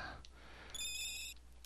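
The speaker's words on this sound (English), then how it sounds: "goddamn phone's ringing again" A phone ringtone sounds once, a brief electronic warbling ring over faint steady background noise in a quiet room.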